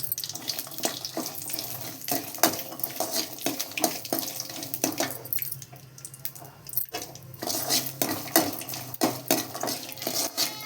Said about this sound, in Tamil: இப்போ இந்த பூண்டை போட்டு நல்லா வறுத்துக்கிறேன் எண்ணெயில்